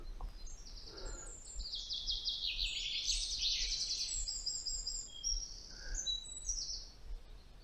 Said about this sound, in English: So it's a common chaffinch and the Eurasian wren.